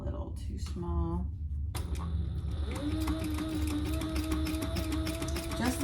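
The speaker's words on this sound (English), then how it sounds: "And I am back stitching." A sewing machine back stitches a zipper box on a bag with a small stitch length, its motor whirring in a steady close run after a brief pause, while someone talks over it.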